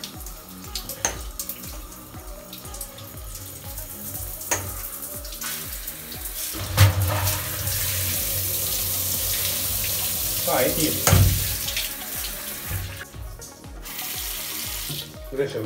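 A hotel room shower at the Kaya Izmir Thermal hotel, running water that hisses and splashes steadily through the middle, with handling noises before and after and a brief spoken remark.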